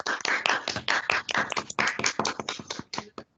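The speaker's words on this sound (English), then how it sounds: "So I think we should do the virtual round of applause at this time." Online participants give a virtual round of applause, a dense run of overlapping claps and taps, loud and close, steady for a few seconds before thinning out.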